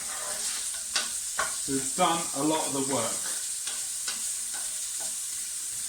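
Onions, garlic and tomatoes for chilli con carne fry gently in a pan, a steady close sizzle broken by several scraping stirs of a utensil while a person talks over it.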